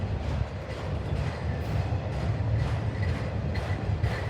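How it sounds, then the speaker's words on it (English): A Norfolk Southern train rolls along the rails as it slows, a steady rumbling roar with faint rhythmic clatter, heard from a moderate distance without any horn. "Is it just me, guys, or is this train slowing down?"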